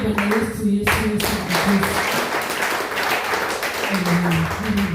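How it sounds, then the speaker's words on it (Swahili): Worshippers at a morning church service break into sustained clapping for Jesus, a full, even wash of many hands close and loud, with shouts and singing voices rising through it. "Kisha tumpigie Bwana Yesu Yesu."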